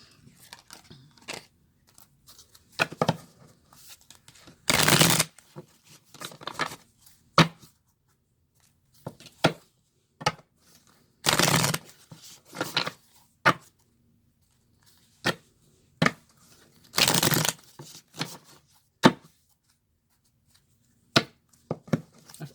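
Tarot cards are shuffled close by in repeated bursts, with short papery riffles and taps at irregular intervals and three longer, louder riffle shuffles spaced several seconds apart, the rest quiet between them.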